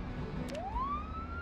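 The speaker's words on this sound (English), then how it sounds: "Can I turn on the fucking siren?" A police-style siren switched on in a video game rises in a smooth upward wail partway through and holds a steady high tone over a constant low engine rumble.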